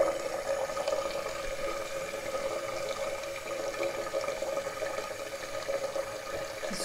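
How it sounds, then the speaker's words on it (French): Tap water runs steadily into a sink to warm a washcloth, a continuous even stream with a faint hum, close and unbroken throughout with no talking. "laisser l'eau couler pour avoir la lingette chaude"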